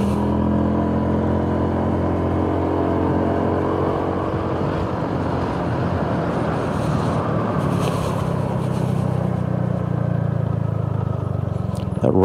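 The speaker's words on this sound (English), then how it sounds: "That rattling is the top box on the back" A Honda scooter's top box rattles on the back while riding, mixed into a steady, loud engine and road drone that continues throughout with no talking.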